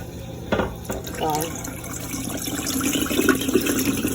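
Tap water runs and splashes while rice is washed in hard water, a steady close rushing with intermittent sloshes and clinks from handling.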